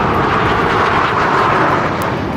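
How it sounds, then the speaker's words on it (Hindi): Military jets of the Indian Air Force's Surya Kiran team flying overhead during an air show at Hindon airbase, a loud, continuous broadband roar that fills the whole stretch with no voices. "वायुसेना की सूर्य किरण टीम के कई विमान भी आसमान में एक साथ उड़ते दिखाई दिए"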